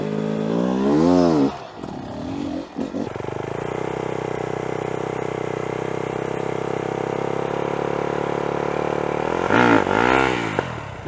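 An enduro motorcycle revs with rising and falling engine pitch, dips briefly, then holds a steady loud drone as it pulls away, finishing with another rev swell close by.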